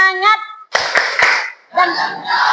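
A school group performs a rhythmic spirit clap, short sharp claps in a quick pattern separated by chanted voices, close and loud in a classroom.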